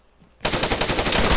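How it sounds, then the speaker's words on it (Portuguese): In ARMA 3 battle royale, rapid automatic gunfire erupts suddenly during an exchange of fire and keeps up as a loud, dense burst of rounds. "eu tenho que trocar tiro com ele"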